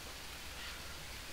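Steady rain in the jungle survival game Green Hell, a soft continuous hiss of falling water, even and moderately quiet, with no talking.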